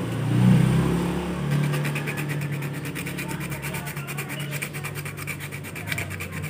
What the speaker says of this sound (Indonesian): Terus kita amplas guys, seperti ini ya guys ngamplasnya